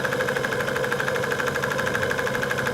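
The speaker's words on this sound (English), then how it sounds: "engine's still ticking over quite well" A steam engine ticking over steadily on a run, boiler at working pressure, giving off a continuous, even mechanical chatter with a regular beat, close and fairly loud.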